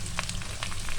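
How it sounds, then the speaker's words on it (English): Chicken with pounded bird's eye chili paste, lemongrass, lime leaves and garlic stirring and frying in a pan, a steady close sizzle with a few brief scraping stir strokes. "Stir it"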